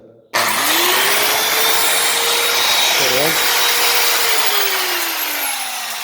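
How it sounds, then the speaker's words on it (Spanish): A power saw cutting material for a sign, one continuous loud whine that starts abruptly and runs steadily with a brief wobble in pitch midway, heard close and alone. "lo primero hay que usar la escuadra y esta sierra para cortar"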